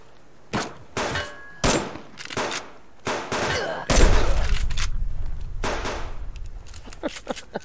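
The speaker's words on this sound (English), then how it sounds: "Oh no, not a shotgun." Gunfire bursts in the survival game Subsistence: about six sharp separate shots spaced roughly half a second apart, then a dense rattling volley of rapid fire that trails into scattered shots, loud and close.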